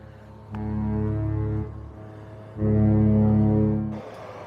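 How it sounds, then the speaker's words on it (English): Two long, deep blasts of a ship's horn at Port Canaveral, Florida, the second louder and longer, booming over a low background hum. "I hear the ship blowing its horn"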